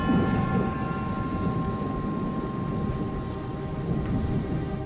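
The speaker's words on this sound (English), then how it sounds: "thunder begins to reverberate around the airport" Thunder rolls around an airport during a storm as a continuous low rumble with a steady hiss of rain, loud and sustained with no voices.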